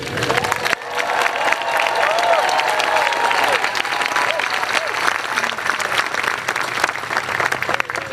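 A large crowd at a Howard University graduation ceremony bursts into sustained applause, clapping loudly with scattered cheers throughout.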